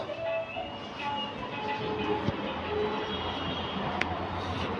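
Metro train running on its rails, a steady close rumble with broadband rushing noise and occasional clanks and squeals, no voices over it.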